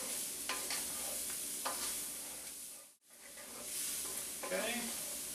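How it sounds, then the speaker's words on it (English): Ground beef mixture stirred together with vegetables in a pan for a pie filling, a steady sizzle and frying crackle with scraping stir strokes, briefly cutting to silence midway, close and moderately loud. "add your beef mixture or your ground beef back to your pan. Okay, mix it in real good with the vegetables."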